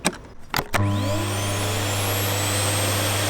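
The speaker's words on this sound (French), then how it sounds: "j'ai essayé de passer l'aspirateur dans la Tesla avec" Vacuum cleaner running inside a Tesla Model 3, powered by an EcoFlow Delta portable battery: a few knocks, then a steady loud motor drone with a rising whine that holds evenly to the end.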